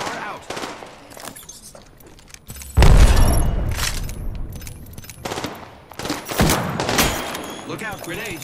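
Apex Legends gunfire in a squad fight: repeated close, loud bursts of automatic fire, with a heavy boom near the middle and sharp cracks continuing through the rest.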